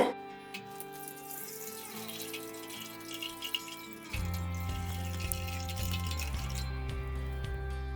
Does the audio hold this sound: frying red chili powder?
no